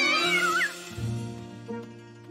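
A cartoon cat in a Peter Rabbit animated episode lets out a drawn, wavering meow up close, followed by lower, growling, yowl-like sounds, with no one talking over it.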